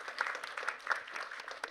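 An audience at a literary event with authors on stage applauds, a soft, steady spatter of many hands heard from some distance, quiet and continuous.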